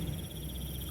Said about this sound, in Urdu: بس تھوڑی تھوڑی دیر کے بعد کتوں اور جھینگروں کی آوازیں آ رہی تھیں۔